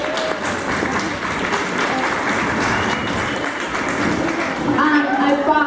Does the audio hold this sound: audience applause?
yes